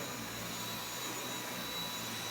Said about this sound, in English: We're doing a nice little vacuum before we have to leave.